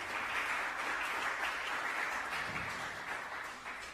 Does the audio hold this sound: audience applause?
yes